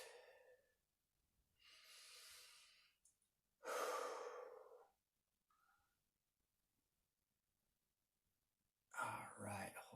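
Slow, deep breaths drawn in and let out during a hip flexor stretch, close and soft, with long airy inhales and exhales separated by quiet pauses.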